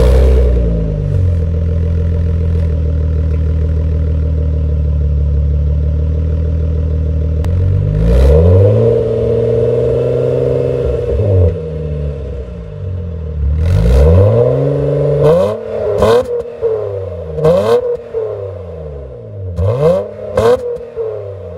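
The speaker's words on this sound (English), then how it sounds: "It is a Magnaflow exhaust." A Honda Ridgeline with a Magnaflow resonator and muffler exhaust idles steadily, then revs repeatedly in short throttle blips, the engine note rising and falling loudly up close.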